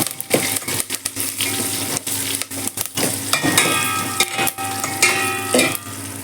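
Garlic and curry leaves fry in hot oil as a tempering for drumstick sambar, crackling and sizzling close up with irregular spoon stirs and scrapes against the pan.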